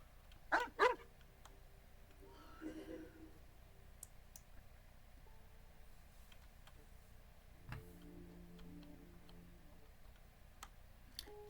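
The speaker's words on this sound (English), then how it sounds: "Is Hauptmann the dog?" A dog in a video game gives two sharp, close barks near the start, followed by faint ticking and quiet game ambience.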